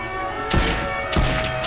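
Rapid weapon fire in Saints Row IV, dense repeated bursts with sharp onsets, loud and close against a steady game score, no speech.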